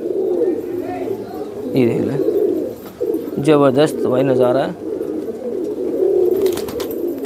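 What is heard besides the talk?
pigeons cooing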